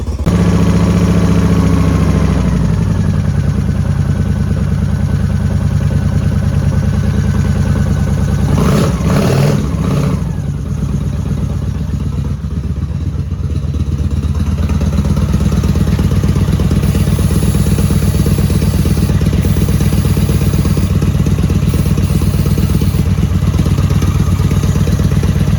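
A chain-drive Honda 750 Shadow motorcycle engine runs while being fogged, a loud, steady idle with clattering mechanical texture, brief revs and a dip midway before settling back into a continuous rumble.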